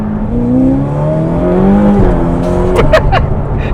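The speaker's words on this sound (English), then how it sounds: "that shift downshift noise is amazing" Ferrari 488 Pista engine, loud and close from inside the car, holding a rising tone and then downshifting with sharp pops and crackles near the end.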